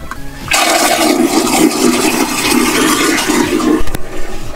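An RV toilet flushes with a loud, close rush of water that starts abruptly, holds steady for about three seconds, then cuts off with a brief clunk. This is the third flush in a row, poured into the holding tank at a luxury RV resort.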